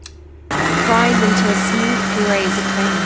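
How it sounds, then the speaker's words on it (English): A kitchen mixer blends cooled, tender cooked vegetables for a sweet corn or tomato soup, a loud steady motor whir starting abruptly after a brief quiet moment and running on continuously. "add to a mixer."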